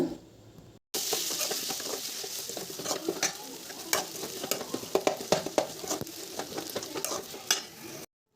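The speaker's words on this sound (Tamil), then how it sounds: "நல்லா வதக்குங்க" Steady loud sizzling of finely chopped tomatoes sautéing in a pan for country chicken curry, with occasional crackles and pops, close up and continuous with no talking.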